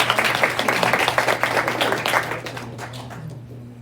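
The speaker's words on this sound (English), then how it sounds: "Your applause was underwhelming." A meeting audience gives a round of applause, a moderate patter of many hands that swells briefly and then tapers off into quiet, heard fairly close.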